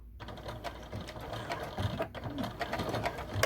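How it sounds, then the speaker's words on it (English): A sewing machine back stitches a fabric fanny pack up close, its needle running in a steady mechanical whir with short repeated bursts and faint clicks throughout. "And again, I'm just back stitching"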